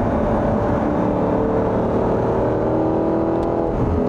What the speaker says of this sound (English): So let me open up the exhaust.